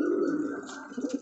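A domestic flying pigeon coos once up close, a soft throaty rolling call with a few wavering pulses, heard alone.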